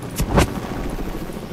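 A sharp explosive rocket boom in Fortnite with a quick double burst at the start, then fading into a rumbling background.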